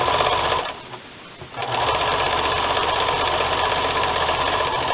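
A sewing machine stitches fabric into piping with a fast, steady mechanical whir, close and loud, stopping briefly for about a second before running on again, with no talk.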